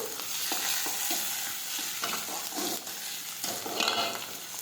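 Tomatoes and dry red chili sautéing in a hot pan for a homemade urad dal, a steady close sizzle with repeated scraping stirs of a spoon throughout.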